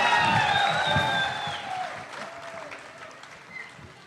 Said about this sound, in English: All right, guys, let's hear it for Mushid and group